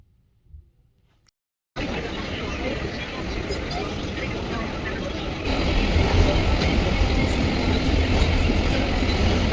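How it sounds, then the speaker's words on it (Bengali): A train pulls into Sealdah station, a loud continuous rumble and roar that starts abruptly after a quiet moment and grows heavier partway through, with a short voice at the very start. "এদিকে ট্রেন ঢুকে গেছে"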